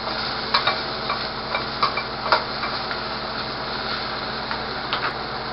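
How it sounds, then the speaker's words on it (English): Beef stew being stirred in a pot, a steady scraping and clinking of spoon against the pot with soft bubbling underneath, close and moderately loud, with a few sharper knocks and no talking. "re-add your meat"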